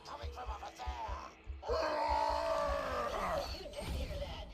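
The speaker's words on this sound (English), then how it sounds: "Those screamy screams are coming from over there!" Screams and groaning cries from enemies in the Borderlands 2 video game, a drawn-out wailing voice rising over a rumbling game backdrop for several seconds.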